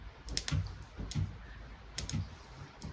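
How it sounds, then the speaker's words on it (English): Clicking from a seized fuel pump on a Datsun 240Z under restoration, a few sharp, regular ticks repeating roughly every three-quarters of a second over a quiet background. "I can hear the pump clicking, but it's not spinning."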